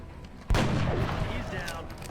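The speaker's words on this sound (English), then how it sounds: "Get him with your rifle." A single loud rifle shot in XCOM: Enemy Unknown cracks suddenly after a brief quiet moment, then its boom and rumble tail off over the next second and a half.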